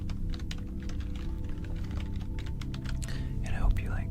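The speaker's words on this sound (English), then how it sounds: "I hope you like the keyboard sounds" Computer keyboard typing, a steady run of quick soft clicks close by under a low background hum, with some faint whispery noise near the end.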